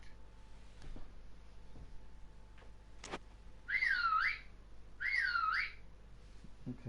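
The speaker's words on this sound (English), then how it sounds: "Whistling." Two short melodic whistled phrases, each rising and falling in pitch, sound close and clear over a faint electronic background hum, with a couple of soft clicks earlier and no talking.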